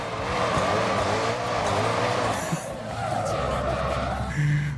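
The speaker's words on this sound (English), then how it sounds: "If she's got wheels, we can drift her." Video-game car tyres screech and skid as the car drifts, a loud sustained squeal that wavers over a running engine, with a brief change in pitch near the end.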